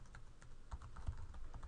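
Quiet, steady typing on a computer keyboard, a run of light, quick keystrokes at an even rhythm heard close up, with no talking.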